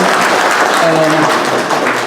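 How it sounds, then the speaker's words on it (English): A meeting audience gives a brief, loud round of applause, dense hand-clapping held evenly for about two seconds, with a faint voice briefly audible within it. "can we have a big round of applause to everybody who brought in stuff?"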